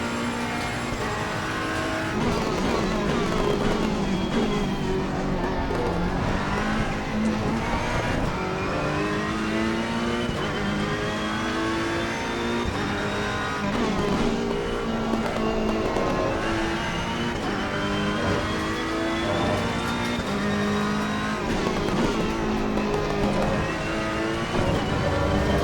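A GT race car laps Monza in Assetto Corsa Competizione, its engine revving hard and dropping through gear changes in a continuous loud drone across the lap, with no voices over it.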